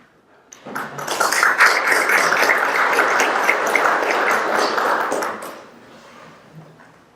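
An audience at a Ward 7 alder Democratic primary debate bursts into loud, dense clapping that holds steady for about five seconds, then stops abruptly and leaves quiet room tone.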